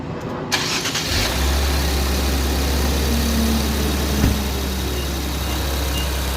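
An Infiniti Q50/Q60 Red Sport with a newly installed AMS intake cranks and fires about a second in, then settles into a loud, steady, deep idle rumble close by.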